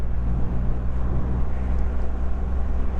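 Triumph Rocket motorcycle being ridden, its big engine giving a steady low rumble with continuous road and wind noise throughout, close and fairly loud, no talking.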